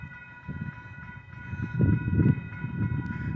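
A southbound BNSF grain train on trackage rights, led by locomotives 7225 and 6178 with 5522, rumbles past with a steady low rolling drone and rhythmic wheel clatter that swells midway, under a faint high tonal whine.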